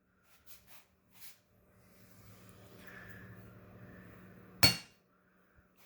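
A wheel bearing race is driven flat with a hammer through a soft aluminum plate: one sharp, loud metallic strike after a few faint clinks of parts being positioned, then quiet.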